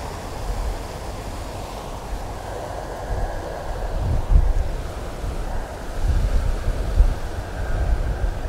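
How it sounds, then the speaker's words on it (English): Strong wind gusts roar across an outdoor golf range, a steady low rumble buffeting the microphone and swelling into heavier gusts, with no talking. "Look at this wind. Don't blow that camera over."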